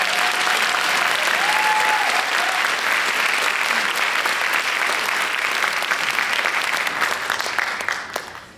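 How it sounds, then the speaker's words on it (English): Sustained loud audience applause at a live storytelling show, dense clapping from a full crowd filling the room and tapering off toward the end. "Let's give these ladies another round of applause."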